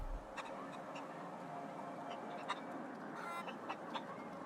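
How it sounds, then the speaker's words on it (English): Chickens cluck in short bursts in The Outer Worlds, heard faintly over a constant ambient hum with no talk. "Chickens."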